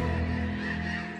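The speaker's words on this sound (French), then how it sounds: "Michael Paretz, qui habite Richmond, voit passer des milliers d'oies des neiges dans le ciel" A large flock of snow geese passing overhead in autumn, a dense continuous chorus of overlapping honks, loud and close, fading slightly toward the end.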